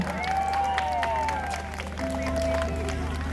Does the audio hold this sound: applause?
yes